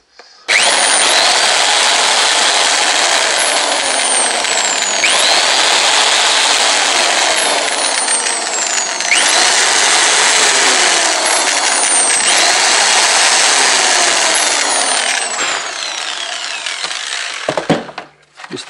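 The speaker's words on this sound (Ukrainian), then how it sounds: "Сверлом отвори." Power drill boring a series of holes into a wooden beehive body, each bore a loud sustained whine that dips as the bit loads up, repeated about four times in close succession before stopping.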